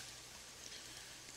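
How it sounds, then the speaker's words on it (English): Steady rain in the video game Jagged Alliance 3, a soft continuous hiss of falling drops holding at an even, quiet level with no voices over it. "It's rain."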